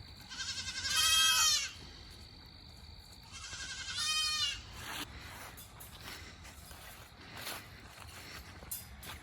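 Goats that escaped and stole food bleat loudly twice close by, each call long and wavering, followed by quieter rustling and small knocks.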